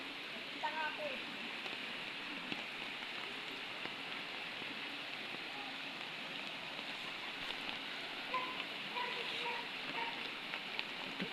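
Floodwater in a flooded neighbourhood, a steady wash of moving water like rain spattering on surfaces, faint and distant, with a few voices murmuring now and then beneath it.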